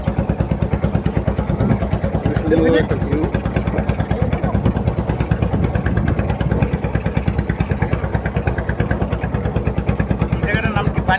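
Small boat motor on a beel wetland lake: a loud, rapid, steady engine chug like a putt-putt motor running close and continuously, with someone talking over it.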